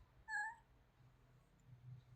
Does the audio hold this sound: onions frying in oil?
no